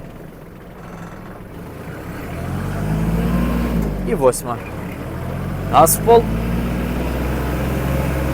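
A Kubota KL-23 mini tractor engine accelerating to top speed, a loud steady diesel drone rising and holding, with two sharp bursts partway through and someone speaking over it.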